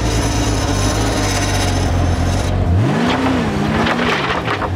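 A bee buggy forklift runs with a loud, rough engine drone. The pitch drops abruptly as the machine jolts, then the engine labours and surges with wavering revs.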